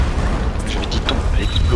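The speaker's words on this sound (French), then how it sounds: "Je lui dis tombe, elle explose." A low, rumbling boom from an explosion in the Tomb Raider video game rolls on for under two seconds beneath a voice talking over it.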